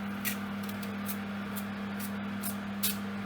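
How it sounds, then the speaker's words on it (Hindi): Cooking oil sprayed over a roast chicken in short hissing bursts, several quick faint sprays spaced apart over a steady low hum. "ऑयल का स्प्रे।"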